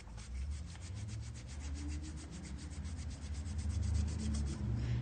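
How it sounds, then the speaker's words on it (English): A cloth rubs excess finish off a timber board along the grain, a steady close rhythmic scrubbing that repeats in quick strokes for several seconds with no voices. "Coming with your cloth, I do recommend though wiping it in the direction of the grain"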